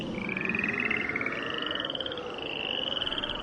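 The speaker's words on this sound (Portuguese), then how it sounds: "as rãs saíram das águas e cobriram todo o país" Frogs croak steadily in a dense, continuous chorus, a rapid pulsing trill layered over a broad noisy bed, with no voices over it.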